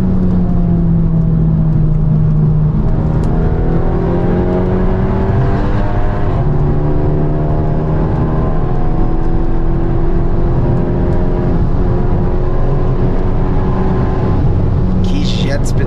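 A Jetta TSI fitted with a Biagio 300 turbo and a remap revs hard while accelerating, engine pitch climbing through repeated gear pulls toward 7,000 rpm, loud and close from inside the car, with people talking over it.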